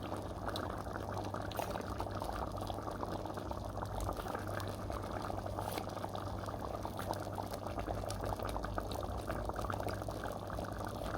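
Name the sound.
cream squeezed out of a box into chowder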